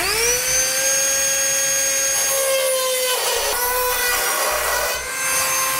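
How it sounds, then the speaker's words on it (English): A rotary tool cuts metal during a B and W fifth wheel trailer hitch installation on a 2012 Ram 3500, giving a steady high whine that dips in pitch as it bites and then recovers. Loud and continuous throughout, with no voices. "I'm gonna use a rotary tool."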